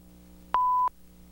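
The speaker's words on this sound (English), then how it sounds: "When the battery goes bad, the smoke detector will generally beep." A smoke detector low-battery beep: a single clean electronic tone lasting about a third of a second, standing out alone against a quiet background hum.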